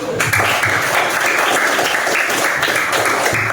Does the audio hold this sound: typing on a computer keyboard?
no